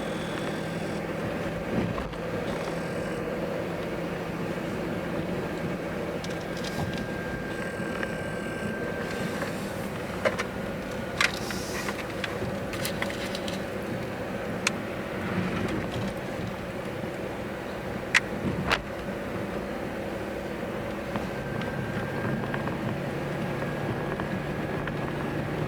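A car drives a winding mountain road near West Jefferson, North Carolina and Whitetop Mountain, Virginia, giving a steady low engine and road rumble throughout with a few brief clicks and knocks, and no talking.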